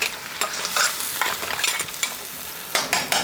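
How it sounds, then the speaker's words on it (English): Mud crab cooks in a pan with its juices while being gently stirred, a close sizzle punctuated by a series of scraping, shuffling strokes and light knocks, with no voices. "just gently stirring it all around"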